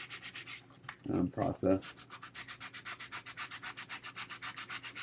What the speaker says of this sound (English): try your best not to sand with your bare hand, because what you have here is you have 5 little sanding pads or sanding blocks